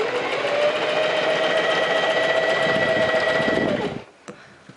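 A sewing machine stitching a straight side seam on a bodice, a loud steady mechanical whirr running close for about four seconds before stopping abruptly, followed by a few faint clicks and handling noises.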